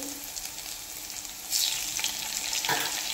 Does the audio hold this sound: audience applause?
no